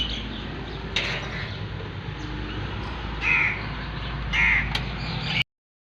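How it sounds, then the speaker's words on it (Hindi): Crows cawing on a winter morning, a few harsh calls spread out at varying distances over a steady outdoor background hum, with no voices. "परिंदों की आवाज़ें"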